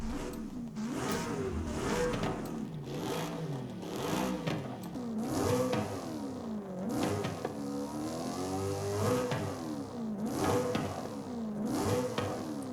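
Car engine in Forza Horizon 5 revving repeatedly, rising and falling in pitch through several throttle blips, loud and continuous with no talking.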